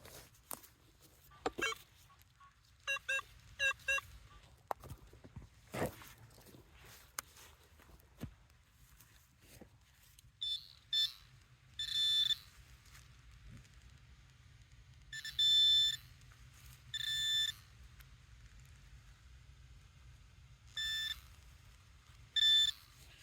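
A metal detector in a field rings on a buried target with repeated electronic tones. Short bursts come first, then longer pulsing beeps spaced a few seconds apart, loud and close, with faint rustling and footsteps between them.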